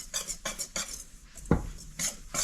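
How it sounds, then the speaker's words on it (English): A whisk clatters rhythmically against a bowl as almond flour muffin batter with spices is mixed, with quick repeated scraping strokes at a moderate level and a single dull knock partway through. "So, so we'll whisk this all together."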